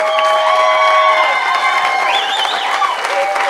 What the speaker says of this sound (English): I want you to stand on your feet, and I want you to clap your hands and show some love for this man right here.